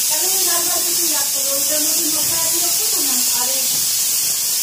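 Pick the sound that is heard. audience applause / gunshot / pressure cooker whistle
pressure cooker whistle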